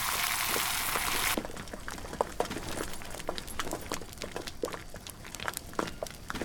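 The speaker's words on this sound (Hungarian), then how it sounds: "Milyen hangja van a forrásban levő víznek?" Water boils in a cooking pot in the Green Hell video game, a steady stream of soft irregular pops and crackling bubbles following a brief burst of hiss at the start.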